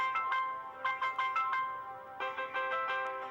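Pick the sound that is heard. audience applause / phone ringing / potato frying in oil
phone ringing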